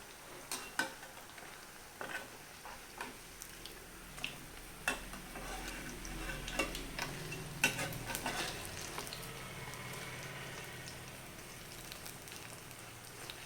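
Oil sizzles and crackles steadily as watermelon rind snacks deep-fry, with occasional sharp pops and a few clinks of a utensil stirring in the pan.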